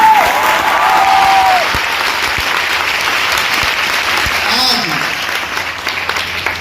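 An audience at a network marketing event claps loudly, the applause swelling and then carrying on under a few brief vocal sounds and some background noise.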